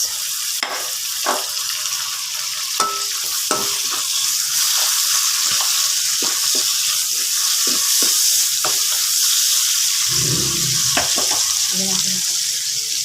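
Tomatoes go into a hot pan for adobong kangkong, setting off a loud steady sizzle with scattered stirring clicks and scrapes, close and without talk.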